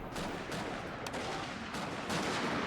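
Massed rifle volleys from kneeling troops in Shogun 2: Fall of the Samurai, a dense, continuous crackle of overlapping shots with a few sharper cracks standing out, loud and sustained throughout.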